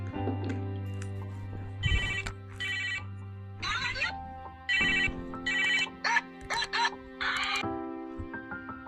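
A phone rings with a bright, chirpy electronic melody, repeating bursts over a low background hum, fairly quiet and at a moderate distance.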